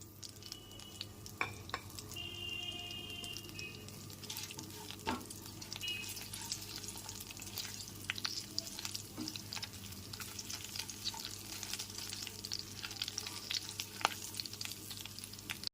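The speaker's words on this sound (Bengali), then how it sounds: "গ্যাসের ফ্লেমটা লোতে রেখে ফোড়নটা হালকা করে ভেজে নেব।" Dry chillies, cumin, bay leaves, cloves, cardamom and cinnamon frying in oil over a low gas flame, giving a steady soft sizzle with faint crackles and occasional stirring clinks.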